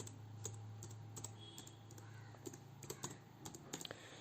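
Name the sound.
typing a MySQL command on a computer keyboard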